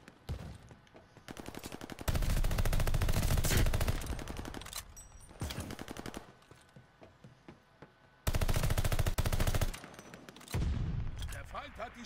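Automatic gunfire on the Radar map in Call of Duty Vanguard, a 7v7 assault mode: loud, rapid bursts of machine gun fire come in several separate volleys with short quiet gaps between them.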